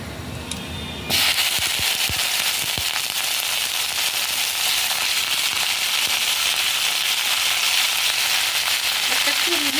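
Washed mixed vegetables hit a hot pan and burst into a loud, dense sizzle that holds steady and close after a brief quieter moment at the start.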